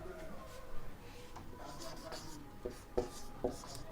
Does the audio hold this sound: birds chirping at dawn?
no